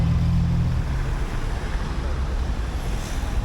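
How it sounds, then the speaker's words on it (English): Steady city traffic noise in Tirana, Albania, forms a continuous broadband roar of passing vehicles, with a low engine hum at the start and no distinct horn standing out. "There's a lot of honking and noise everywhere you go to."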